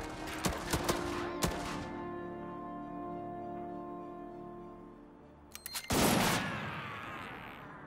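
Bursts of machine gun fire in a WW2 strategy game set in a British campaign, a few sharp cracks early on, then a louder rattling burst near the end over a sustained tonal music bed.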